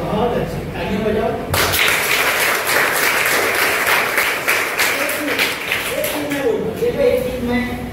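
A classroom of children bursts into loud, rapid group clapping after a teacher's brief speech, the applause carrying on for several seconds before fading as talking resumes.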